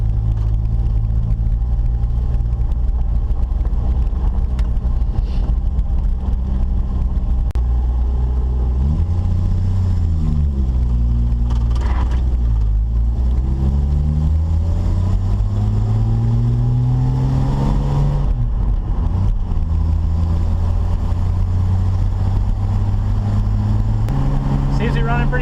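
A restored 1967 Ford Mustang drives on its first run, its engine droning loudly and rising in pitch through the gears with drops between shifts, heard up close from inside throughout.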